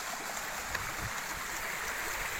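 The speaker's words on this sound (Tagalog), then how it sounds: "tuloy-tuloy po yung tubig po dito na umaagos" Water flows continuously along the stream at Mapita Falls, a soft steady hiss and trickle that stays fairly faint and even throughout, with no voices.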